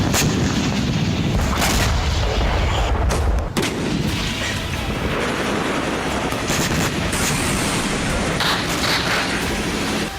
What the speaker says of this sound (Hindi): सरहद के दोनों तरफ धमाके गूंज रहे हैं।